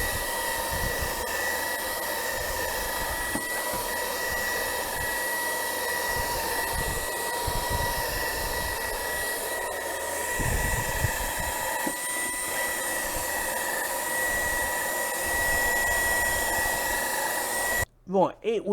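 BVILY cordless vacuum cleaner running in turbo mode, a loud, steady high-pitched whine with airflow rush, close by, cutting off abruptly near the end.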